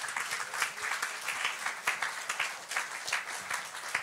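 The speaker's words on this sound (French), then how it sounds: "Acclamons très fort le Seigneur." A church congregation claps loudly and steadily for several seconds during a worship service, dense overlapping applause with scattered sharper claps.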